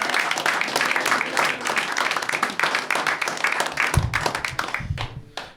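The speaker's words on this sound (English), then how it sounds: "Let's have a big round of applause for Roman Leo." A live comedy-show audience breaks into loud, sustained applause and clapping close by, a dense steady roar of hands that thins slightly toward the end as a voice begins to cut through.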